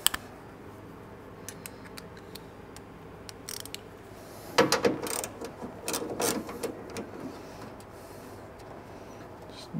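A hand ratchet with an extension bar works bolts loose on an MG ZS 1.8 car, giving sparse quiet clicks at first, then a busier burst of ratcheting clicks and metal clatter in the middle, close by with no talk.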